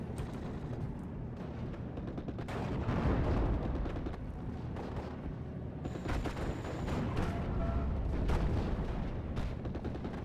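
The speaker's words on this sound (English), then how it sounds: "We got some mortar barrages coming in right here." Mortar barrage explosions in a WWII strategy video game, with dense overlapping booms and rumbling blasts continuing steadily, mixed with scattered gunfire, fairly loud throughout and without speech.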